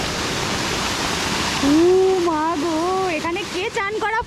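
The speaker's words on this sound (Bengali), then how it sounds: "এখানে ঝর্ণাটা ওদিক থেকে দেখা যাচ্ছিল" Ramboda Falls in Sri Lanka gives a steady, broadband rushing roar heard from some distance, with a person speaking over it partway through.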